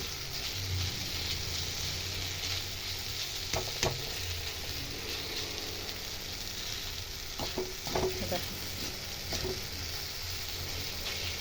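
Green banana bhurji fries in a pan with a continuous soft crackling sizzle. Scattered clusters of spatula scrapes and knocks stand out near the middle and toward the end, and no voices are heard.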